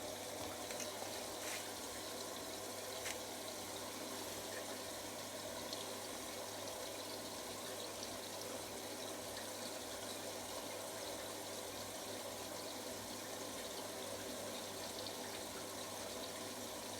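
A Hotpoint First Edition 1000 washing machine fills with water, giving a faint, steady hiss and rush of inflow that holds evenly throughout with no talk.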